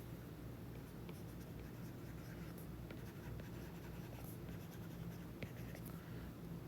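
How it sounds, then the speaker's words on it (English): Pen or chalk scratches steadily by hand across a writing surface during a math lecture. The faint, continuous strokes sit over a constant background hum. "So let me write."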